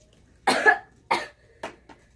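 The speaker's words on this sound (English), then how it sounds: "Anyways, I let her cough." A few sharp coughs, two strong ones followed by two weaker ones, close and isolated against near silence.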